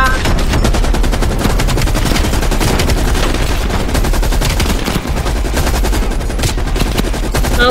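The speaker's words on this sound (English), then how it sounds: "time to shoot without aiming" Constant automatic gunfire from unaimed hip shooting in Call of Duty: Black Ops Cold War, loud and close, a dense unbroken rattle of shots with only a brief dip midway.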